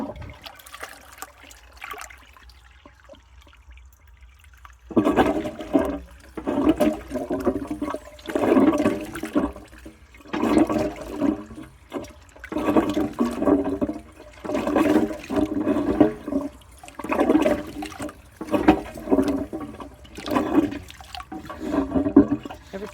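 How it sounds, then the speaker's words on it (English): A 1940s W & J Lawley 402 cast iron high-level cistern toilet flushes, a steady rushing, splashing pour of water lasting many seconds after a quiet start, with rhythmic surges and gurgles close by. "Every time I tried to flush it, it was going on the first pull."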